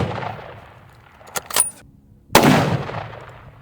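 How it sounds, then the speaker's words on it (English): .30-06 rifle fired in a caliber penetration test, one sharp, loud, close shot after a quieter crack, ringing out and decaying alone without speech. "All right, we're shooting the 30-06 again."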